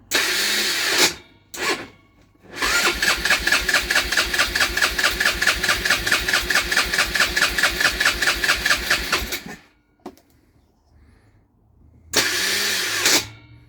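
An engine with a worn starter cranks on full choke in a long run of rhythmic, chugging pulses, with shorter cranking bursts before and after and quiet gaps between them.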